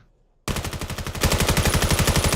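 Rapid automatic gunfire from an Ascendancy versus REKT video game match, starting abruptly after a brief near-silence and continuing as a loud, steady burst of evenly spaced shots that grows heavier partway through.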